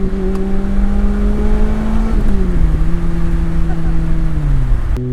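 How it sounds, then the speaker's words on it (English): A Lotus Elise with a Yamaha-tuned engine revs close and loud with a high, bike-like whine, holding a steady pitch before stepping down as the revs fall. "a sport bike company makes an engine that sounds like a sport bike"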